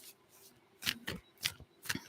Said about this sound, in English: I'll shuffle and shuffle, but no card is coming out.